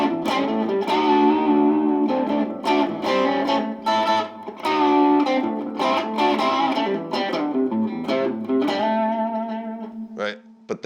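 A distorted electric guitar with a rock and roll tone plays chords and riffs, loud and close, with dense ringing notes and a short pause near the end.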